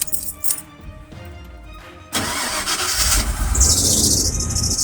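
A Ford car's engine cranks and then catches after a fuel pump and filter replacement, with quieter clicks and rattles before a sudden steady running roar, and birds chirping in the background.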